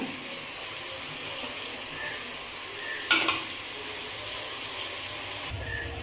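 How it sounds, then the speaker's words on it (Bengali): Spices tipped into a hot pan for a Bengali fish-head moong dal, giving a steady quiet sizzle with stirring and a brief sharper rattle about midway, with no talk. "এবার আমি এই মশলাগুলোকে সব দিয়ে দেব।"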